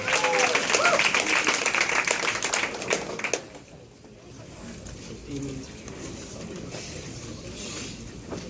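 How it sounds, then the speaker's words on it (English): Crowd applause at a hackathon team introduction, loud dense clapping for about three seconds with voices mixed in, then dropping to a quieter room murmur with scattered sounds. "Big round of applause, please. Team Bathroom Wall."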